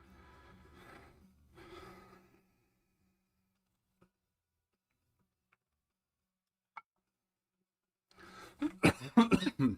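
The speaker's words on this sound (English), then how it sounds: "I've been coughing a lot lately" A burst of loud, harsh coughing near the end, after quiet low rumbles, a long near-silent stretch and a single sharp tick.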